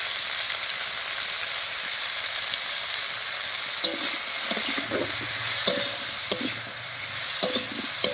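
Dal with salt and turmeric bubbles in a pot beneath a soft steady hiss, while a spoon clinks and scrapes against the pot in several distinct stirs during the second half.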